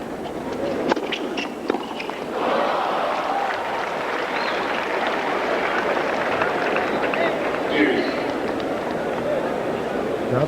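Tennis crowd at the USTA National Tennis Center applauding during the 1996 US Open match between Sampras and Corretja, a dense, steady wash of clapping that swells after a brief quieter start and continues throughout.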